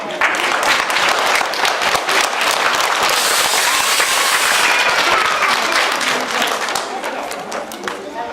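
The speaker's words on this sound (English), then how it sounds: "everybody give firefighter steel a round of applause" Crowd of children and adults at a reading event clapping for a firefighter, loud, dense applause filling the whole stretch with cheers mixed in, tapering slightly toward the end.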